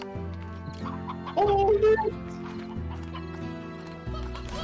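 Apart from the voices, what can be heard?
chicken clucking in video game Slime Rancher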